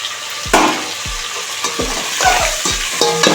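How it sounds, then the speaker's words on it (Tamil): Tomatoes added to onions, curry leaves and coriander frying in a pan for sambar, a loud close sizzle with a spoon stirring and scraping in a steady repeating rhythm, no talk. "கருவேப்பிலை கொத்தமல்லி வெங்காயம் வதங்கிடுச்சு தக்காளி போடுறோம்"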